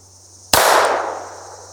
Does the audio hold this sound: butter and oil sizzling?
no